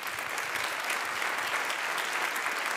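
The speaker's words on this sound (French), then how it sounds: "un énorme aussi tonnerre d'applaudissements à la pyramide" Audience at an award ceremony gives a steady round of applause, a dense, even wash of clapping that holds without pause and sounds moderately distant.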